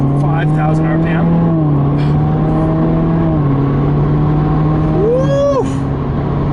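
A Subaru WRX engine in manual mode holds a loud, steady drone through a full-throttle pull, its pitch stepping with gear changes, then sweeping up sharply near the end.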